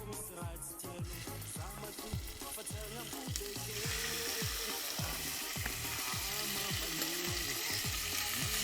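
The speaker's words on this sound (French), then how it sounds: "Alors là, je vais juste colorer mes morceaux de viande." Pieces of meat browning in a hot pan, loud continuous sizzling and crackling up close, with repeated stirring or scraping strokes in a steady rhythm.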